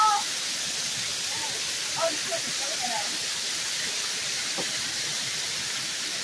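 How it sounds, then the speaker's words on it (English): Steady, full roar of rushing water from a waterfall heard up close from underneath it, a constant hiss filling the whole stretch with faint voices drifting in now and then. "Check this out, you guys. Under the waterfall."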